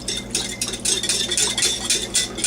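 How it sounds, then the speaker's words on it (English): A whisk beats a shrimp marinade of tequila, lime, cumin and ground pepper in a bowl, producing rapid, evenly spaced swishing strokes up close with light clinks against the bowl. "Now, Whisk away."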